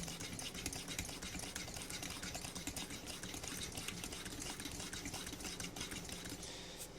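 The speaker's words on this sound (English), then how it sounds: "You're supposed to do 40, 50 pumps." Rapid hand pumping of a Coleman dual fuel camp stove's fuel tank, a steady stream of quick mechanical strokes with clicks and hiss, close and continuous throughout.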